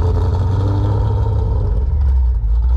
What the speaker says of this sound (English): All right, man. Start it up.